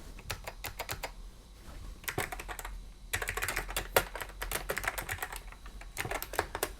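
An AT keyboard hooked up to an Amiga CD32 is typed on with rapid, crisp, close keystrokes, sparse at first and then in dense, continuous bursts.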